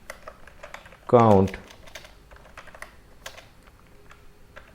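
Computer keyboard typing while code is entered in a TypeScript loop: a short, dense burst of key clicks in the foreground, with someone talking quietly around it.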